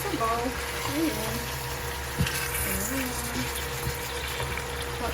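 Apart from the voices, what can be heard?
water running from a tap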